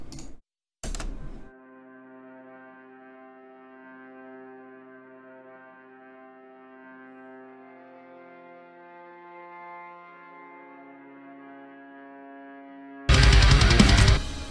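Violin from the Spitfire Audio Labs plugin plays soft, sustained notes that hold and slowly shift for several seconds, quiet and subtle, with brief loud bursts of other sound at the start and end.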